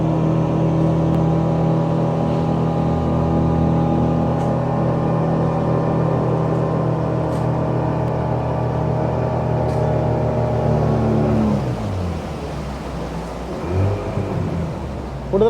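A tour boat's engine drones steadily and loudly as it sets off with passengers on the Madu Ganga river in Galle, Sri Lanka, then fades and changes pitch after about eleven seconds amid rainy outdoor ambience.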